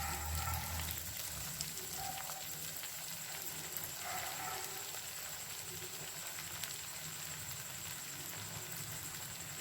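Idli fingers coated in breadcrumbs deep-fry in hot oil over medium heat, giving a dense, steady crackling sizzle throughout with no one speaking.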